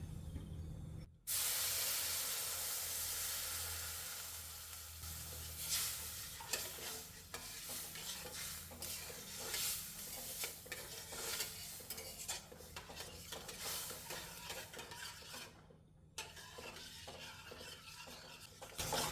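Water poured into hot roasted semolina for mango kesari hits with a loud burst of sizzling spray, then settles into bubbling and stirring with a metal spoon clattering against the pot.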